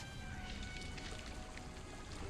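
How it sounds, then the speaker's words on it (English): Water churns in a stone chamber in the Dungeons & Dragons Online video game, a faint, steady wash of splashing and bubbling with no voices. "Water in the chamber churns as the Kopru matron leaps out."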